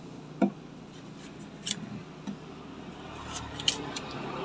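A knife scrapes and peels the skin off a ripe home-grown melon, with close, scattered rasping strokes and small clicks against a quiet background, with no speech.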